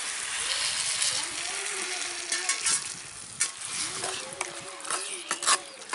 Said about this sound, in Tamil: இதில் வந்து நம்ம கொஞ்சமாக அளவாக தண்ணி ஊற்றி கொதிக்க வைக்கணும்